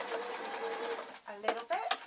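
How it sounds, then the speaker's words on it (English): A sewing machine sews a normal-size stitch through a fabric pocket piece, a fast steady whirring hum that briefly pauses, with a voice talking over it near the end. "Now all I'm doing with my sewing machine is a normal size stitch"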